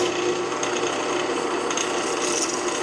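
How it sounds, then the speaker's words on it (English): A 3/16 drill bit bores into a knife handle scale, giving a steady grinding rasp that runs unbroken at close range, with no speech. "now I've got a 3/16 drill bit all chucked up, and we're ready to drill out our first handle scale"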